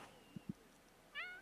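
A cat in a life-simulation video game gives two short soft chirps, then a clear rising meow after a brief pause, close and alone with no talking.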